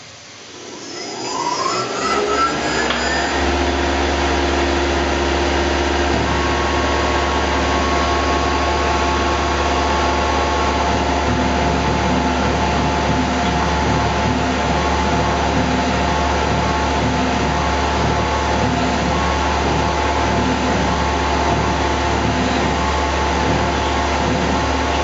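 A Tormach PCNC 1100 CNC mill drills a vise handle with a pilot drill: the spindle winds up, then a loud, continuous whirring hum with a low drone holds steady throughout.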